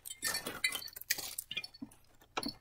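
Glass items clink together as they are unpacked and handled, several sharp bright taps and rattles in quick irregular succession, close and fairly loud with no talking.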